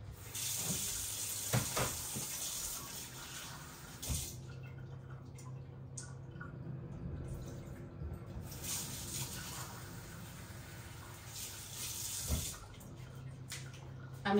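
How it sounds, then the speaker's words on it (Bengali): Water runs steadily from a kitchen tap while hands are rinsed of sticky sugar-syrup dough, with brief breaks in the flow partway through and no talking. "আমি হাতটা ধুয়ে আসলাম"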